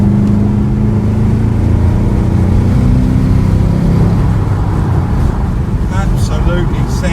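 A 5.0-litre V8 in an MG X Power SVR roars while driving, a loud, steady low engine drone heard from inside the car with the window down, with a brief rise in pitch and speech toward the end.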